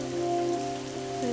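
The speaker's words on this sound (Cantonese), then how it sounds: "潛水先嚟落雨" Steady rain falling in Okinawa, a continuous close hiss of drops on surfaces with a low tonal hum beneath, no voices.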